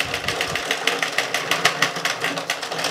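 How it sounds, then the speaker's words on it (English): An Addi/Sentro circular knitting machine is cranked by hand through a knitted panel, producing a quick, regular plastic clicking and rattling rhythm up close, with no speech. "crank around once to the end of the panel and then back again, and it should just pop off of our machine"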